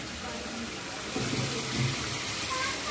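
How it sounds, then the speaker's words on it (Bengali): Water pours briefly into a bowl of spices for a rohu fish curry, a soft low splash and trickle about midway, under quiet background hum and faint room noise. "আর এই যে মশলার বাটির মধ্যে একটু জল দিয়ে দেবো"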